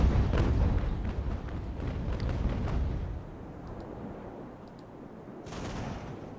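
Heavy cannon fire from warships in the naval battle game Ultimate Admiral rumbles loudly in overlapping booms, then thins to scattered distant shots.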